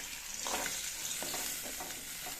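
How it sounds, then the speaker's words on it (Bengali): Fried fish being lifted out of sizzling hot oil, a steady close sizzle with a few soft scraping and clinking touches from a utensil. "আমার মাছগুলো ভাজা হয়ে গেছে, আমি এখন উঠিয়ে নেব।"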